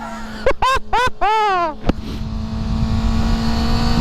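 A 2020 Kawasaki ZX6R sport bike accelerating while being ridden. Brief excited vocal sounds come first, then the engine settles into a steady, sustained drone close by.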